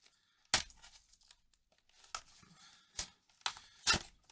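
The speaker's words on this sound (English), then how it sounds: "let's rip that right on open" Sharp rips and crinkles as cardboard-over-plastic packaging of a Gerber Truss multi-tool is torn open, several separate bursts with quiet gaps, close and fairly loud.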